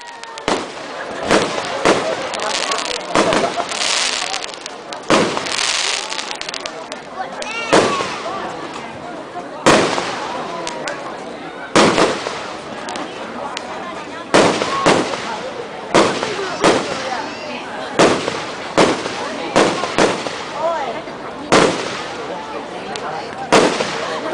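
Fireworks go off at a launch event for football players, with loud bursts and pops repeating every second or two over a steady crackling rumble for the whole stretch.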